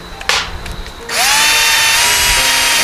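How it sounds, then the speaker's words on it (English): A power drill whirs briefly, stops, then starts again with a steady high-pitched whine as it bores a hole in wood, loud and close. "Take your drill bit, center it over the hole,"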